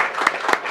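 An audience at a live political discussion gives a short round of applause, with a couple of sharper individual claps standing out near the end of the brief burst.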